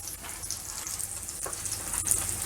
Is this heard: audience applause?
no